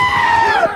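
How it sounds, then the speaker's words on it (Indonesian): Goats let out a brief, loud, shrill scream that wavers and falls in pitch, sounding almost human, in a scene from the film Thor: Love and Thunder. "ngedengar suara jeritan 2 kambing tersebut"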